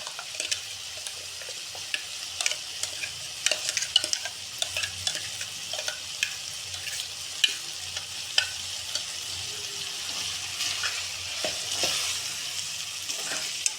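Kabuli chana gravy masala frying in a pan while a spoon stirs it, giving a steady close sizzle broken by frequent scraping clicks and knocks against the pan, no voices.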